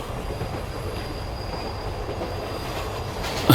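A passenger train runs on its rails in a steady, loud rumble, heard from on board, ending in a sudden sharp clunk.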